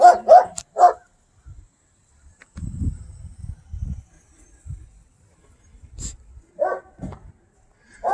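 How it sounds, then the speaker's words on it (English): A dog barks in short sharp bursts, a few quick barks at the start and more at the end, with quieter rustling between. "All that barking."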